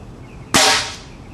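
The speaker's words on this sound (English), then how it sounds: "Grab the trigger, aim it whatever you want," An air cannon built by American Air Cannons fires a tennis ball with one sudden loud blast, a sharp burst of compressed air that trails off into a fading hiss over about half a second, heard close with no voices.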